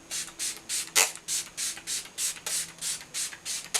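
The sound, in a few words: spraying Smashbox Photo Finish So Chill Coconut Primer Water on face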